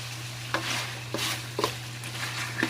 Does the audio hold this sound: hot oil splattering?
yes